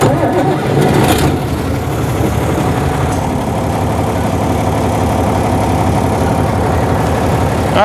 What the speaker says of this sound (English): So first I'll hop on the tractor and we'll get the auger going.